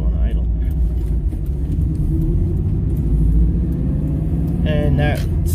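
Car engine struggling to idle on a winter mountain road near the Mt Ashland ski area, a steady low rumble with uneven surges, steady and close throughout, with talking over it.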